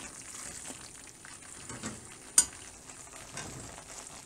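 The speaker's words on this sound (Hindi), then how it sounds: "हमने दाल को उस वक्त तक भूनना है हल्की आंच पे" Soft, steady sizzling of split chickpea lentils dry-roasting in a pan over low heat, with faint scraping stirs and one brief louder clink partway through.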